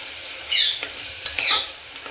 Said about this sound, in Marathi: हे असं चांगलं असं परतून घ्या।